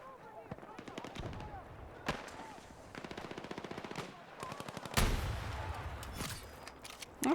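Rapid machine-gun bursts and scattered gunshots from a Battlefield 6 Breakthrough defense match, several clusters of automatic fire at close and middle distance with a heavier burst near the end, occasional voice underneath.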